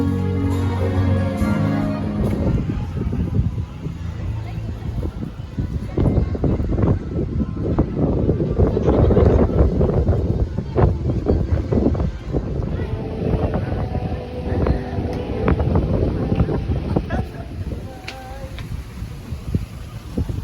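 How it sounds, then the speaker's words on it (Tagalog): Strong wind buffets the microphone at a high viewpoint in Cebu, a loud continuous rushing roar with gusty swells, faint talk underneath. "And sobrang hangin dito kasi sobrang taas niya kung makikita nyo."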